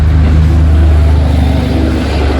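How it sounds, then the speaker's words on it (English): Steady low rumble of road traffic passing outdoors, a continuous dense drone at fairly high level with no gaps and no speech. "Sorry for the road noise."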